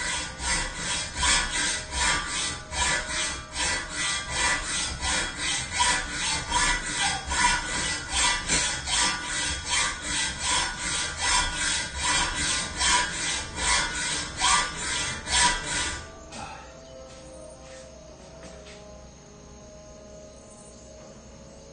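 A saw cuts steel coping for a skateboard grind box, rasping through roughly thirty even back-and-forth strokes close by, then stopping and leaving quiet handling noises.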